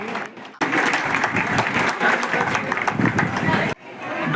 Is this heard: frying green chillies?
no